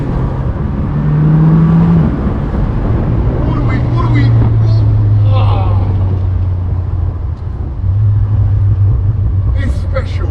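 A Morgan Plus Four sports car accelerates from inside the cabin, its engine note rising and falling in steady droning surges under a voice talking over it.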